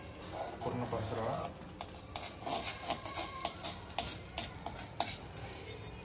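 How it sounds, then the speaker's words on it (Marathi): Butter spread around a pan on a low gas flame, soft scraping and stirring with a faint sizzle and occasional light taps, under a person talking. "हा बटर थोडासा टाकायचा थोडा गॅस स्लो ठेवा आणि हा पूर्ण पसरवा."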